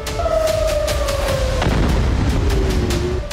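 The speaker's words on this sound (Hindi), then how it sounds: "इजराइल की धरती पर 72 घंटे से इसी तरह विस्फोट हो रहे हैं।" Houthi ballistic missiles strike cities in Israel. Loud, rumbling booms and a sharp blast come through a dense wash of noise, with steady wavering tones running beneath.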